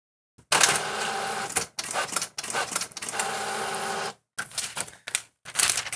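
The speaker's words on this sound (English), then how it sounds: "I'm going to select our EcoTank printer from the list and print this first stencil." An EcoTank inkjet printer runs off a tattoo stencil, its print head shuttling back and forth in loud, sustained mechanical passes broken by short pauses and clunks, close and alone.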